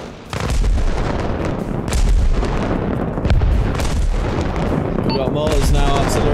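Artillery and mortar fire in the military game Arma Reforger, a continuous barrage of heavy booms and crackling gunfire with repeated blasts, loud and close, with a voice talking over it.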